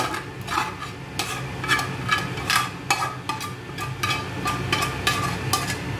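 Wrap filling mixed with cut avocado and lemon juice, a run of quick clinking and scraping utensil strokes against a bowl or plate at an uneven rhythm, close and moderately loud.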